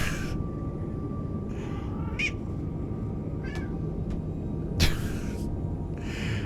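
A pet cat indoors meows several times, short close cries spaced irregularly over a low steady background hum, with one louder sharper call near the end.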